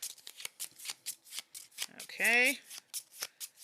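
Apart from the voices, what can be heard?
shuffling a deck of cards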